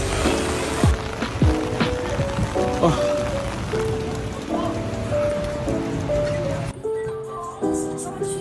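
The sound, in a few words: heavy rain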